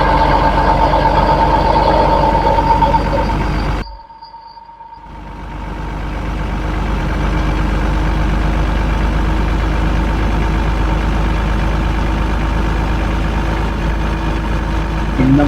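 A truck engine drones steadily from inside the cab while driving on the road toward Jalandhar, a constant low rumble that briefly dips and then swells back to a continuous hum.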